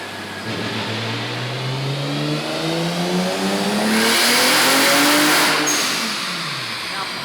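A high-mileage Toyota Supra on a dyno, running on low boost, revs hard past its redline. The engine note climbs steadily in pitch over several seconds, grows loud near the top, then drops back as the throttle closes.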